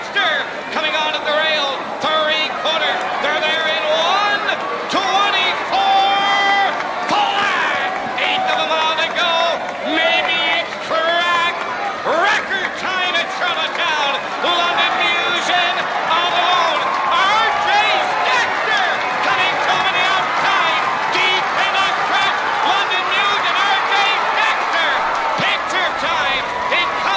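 A crowd at a harness racetrack roars and cheers steadily throughout, loud and sustained, with a commentator talking over the top.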